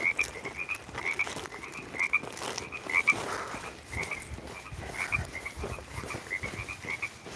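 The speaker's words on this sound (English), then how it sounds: "Can you hear the frogs?" Frogs croak outdoors in a dense, continuous chorus, with repeated rhythmic calls layered over a steady background of many callers.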